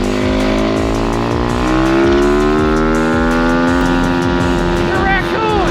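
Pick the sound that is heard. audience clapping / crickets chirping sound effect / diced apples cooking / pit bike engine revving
pit bike engine revving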